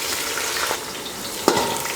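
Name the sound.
sliced onions and green chillies frying with cinnamon and cloves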